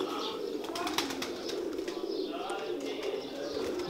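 Kamal pigeons coo in a low, steady murmur with some brief wing flaps, a continuous soft bird presence throughout with a faint voice in the background.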